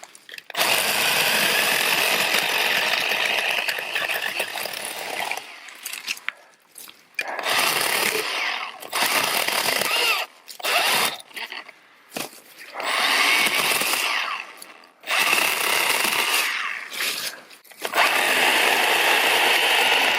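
A Milwaukee M12 hatchet pruning saw cuts through several stumps, its loud buzzing motor running in long close bursts broken by brief stops and restarts where the blade seems to jam.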